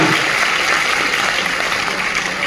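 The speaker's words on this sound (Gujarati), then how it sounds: "એકવાર જોરદાર તાળીઓ થઈ જાય" Loud, steady applause from a seminar audience fills the space, a dense continuous wash of clapping with no break.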